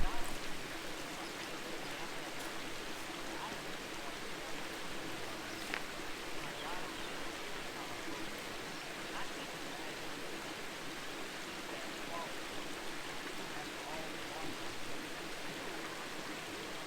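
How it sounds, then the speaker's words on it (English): A waterfall along a hiking trail pours in a steady, broadband rushing roar that stays even and continuous throughout, close and fairly loud, with no distinct other sounds over it. "Hopefully you can hear me over the waterfall. It is flowing nicely."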